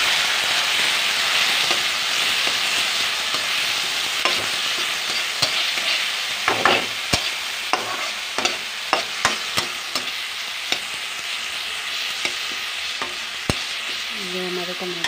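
Tomatoes frying with onions in a pan, a continuous close sizzle broken by frequent sharp scrapes and taps of a spoon stirring, without speech.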